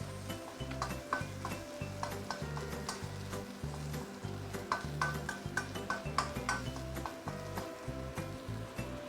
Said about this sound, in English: we want to induce the oil with the garlic and red onion here.